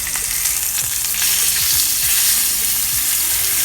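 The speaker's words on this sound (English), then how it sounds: "Good sizzle." Chicken pieces for a curry sizzling loudly in a hot pan as they are flipped, a dense close hiss of frying with a few soft knocks and scrapes from turning the meat, no talk.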